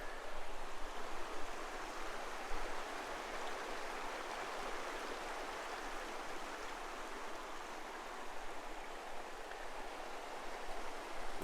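A creek beside a Montana campsite flows in a steady, soft, hissing rush of water, constant and unbroken, with no voices.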